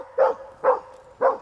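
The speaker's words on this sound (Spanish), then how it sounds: "se puede oír el ladrido del perro, indicándole al guía que ha encontrado una persona" A Guardia Civil search dog barks three times at an even pace to signal a found person, each bark short and close, with near silence between.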